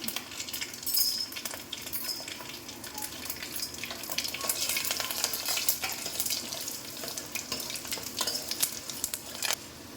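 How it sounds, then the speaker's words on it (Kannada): Steady, bright sizzling of chana dal, urad dal and cumin crackling in hot oil for tempering, with occasional stirring clinks, continuous and close with no talking. "ಕಡಲೆಬೇಳೆ ಒಗ್ಗರಣೆ ಆಗಿದೆ ಇವಾಗ"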